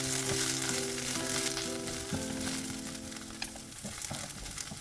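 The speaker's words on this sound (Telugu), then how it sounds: "మనం ముందే కట్ చేసి పెట్టుకున్న బెండకాయ ముక్కలు వేసుకొని 6 to 8 మినిట్స్ మీడియం ఫ్లేమ్లో ఫ్రై చేసుకోవాలి" Okra pieces fry in oil over a medium flame in a pan, giving a steady, close sizzle with light stirring and no talk.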